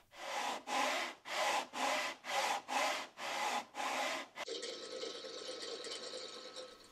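An MDF template for amplifier chassis holes is hand-sawn in a run of eight rhythmic, loud back-and-forth strokes, followed by quieter workshop noise.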